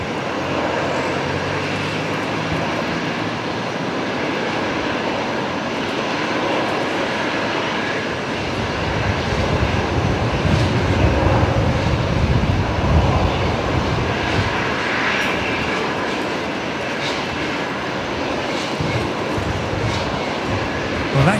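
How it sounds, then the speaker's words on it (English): A Qantas Airbus A380 jet rumbles at Brisbane Airport, a steady engine roar that grows louder and deeper midway, with faint talk at times. "Qantas A380 here in Brizzy"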